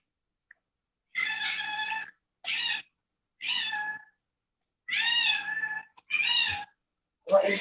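A cat meows five or six times in long, loud, close calls separated by short pauses, with no other sounds between them.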